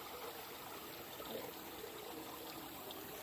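Creek water flows in a steady, even rush on a nature walk, continuous and moderately loud with no other sounds.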